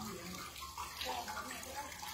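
Cold spring water runs steadily from an open spout at a spa fountain, a continuous soft splashing stream with no talk.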